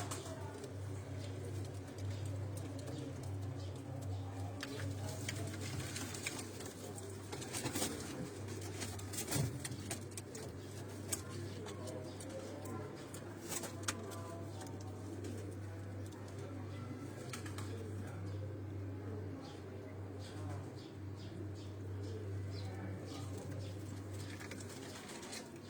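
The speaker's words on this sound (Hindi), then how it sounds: "ये सारे सियालकोटी ब्रीड के कबूतर हैं" Large-bodied Sialkoti breed pigeons coo steadily on a rooftop loft in Rawalpindi, a low continuous murmur from several birds close by, with occasional wing flaps and faint background traffic.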